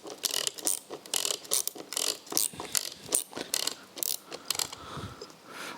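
A ratchet cranks in quick bursts of clicking while tightening piston and conrod parts during an old rusty engine rebuild, close and crisp, the strokes coming in irregular short runs with brief pauses between.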